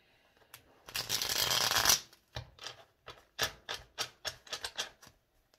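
Tarot cards shuffled by hand: a sustained riffle-like burst of rapid card flutter, then a series of about ten short crisp shuffling bursts in an uneven rhythm, close and clear with no talking.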